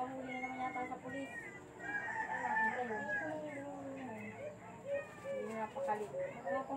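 A rooster crows repeatedly in a rural Philippine setting, with harmonic calls that rise and fall over several seconds among other fowl, fairly close, while people talk faintly in the background.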